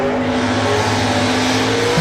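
Junior dragster race cars at a drag strip, a steady loud engine drone with a strong pitched hum filling the whole stretch, no break in the sound.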